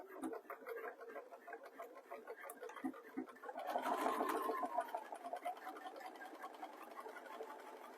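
A domestic sewing machine stitches in reverse through fabric for a neck warmer, a steady mechanical whir with fine ticking texture that swells slightly midway, close and alone with no talk.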